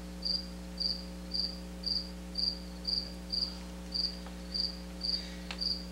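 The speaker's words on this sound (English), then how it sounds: "now it's all of a sudden it's chirped back up again" Cricket chirping indoors in a meeting room, about a dozen evenly spaced sharp chirps roughly twice a second, fairly faint over a steady electrical hum from the room.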